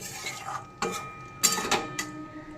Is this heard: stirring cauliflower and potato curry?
yes